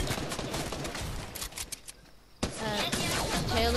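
Rapid bursts of automatic gunfire in Fortnite, loud and close, break off briefly into near silence and then resume in a fresh volley.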